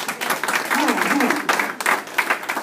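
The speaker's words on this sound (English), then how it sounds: "Let's give her a hand clap for that." An audience at an inspirational talk claps for a speaker in uneven bursts, with a voice talking over the clapping throughout.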